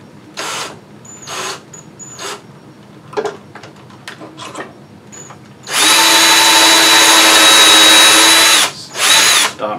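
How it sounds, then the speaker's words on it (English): A power drill bores pocket holes in wood, with scattered clicks and short tool noises before a loud sustained whine of drilling that halts, then one more brief burst. "So I proceed to drill all the pocket holes."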